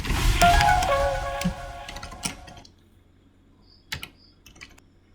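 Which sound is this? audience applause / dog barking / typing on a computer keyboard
typing on a computer keyboard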